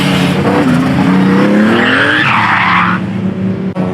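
Race cars at a time attack championship final on track, loud dense engine roar with sweeping pitch changes, a compressor surge whoosh and tire squeals rising over the din throughout.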